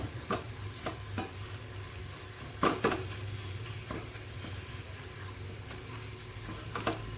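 A spoon stirs a potato filling with spices in a pan over medium heat for a crispy potato sandwich. Soft scraping strokes repeat under a low, steady sizzle, with a few sharper clinks against the pan.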